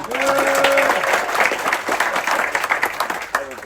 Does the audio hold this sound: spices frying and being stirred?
no